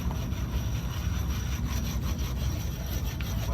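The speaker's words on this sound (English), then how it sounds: "I'll have a spot where I can surface my pads at home. In my backyard on the concrete. I'll just go like this." Brake pads scraped back and forth on backyard concrete to resurface them, a steady, close, gritty rubbing that continues without a break and with no talking.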